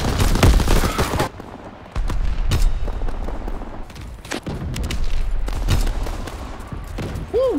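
Loud, dense gunfire and explosions fill a Call of Duty multiplayer match in continuous bursts of shots and booms, with no talking.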